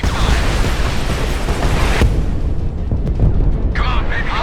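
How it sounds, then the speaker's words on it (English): In the video game Homefront, military vehicles explode on a narrow bridge as a loud, sustained roar of blasts and rumbling debris with sharp bursts cutting in, filling the whole stretch at close range. "If only there was some way to turn this bridge into a choke point by blowing up military vehicles on this narrow bridge"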